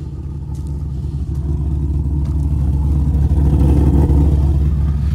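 A Jeep farm truck engine with a lopey cam, 106,000 miles on it, rumbles low and loud up close, its uneven idle loping steadily and swelling slightly in volume.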